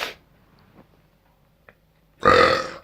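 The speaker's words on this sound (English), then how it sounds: "how dare you burp?" A single loud, rasping burp erupts near the end after mostly quiet moments with faint small noises, close to the microphone on a podcast recording.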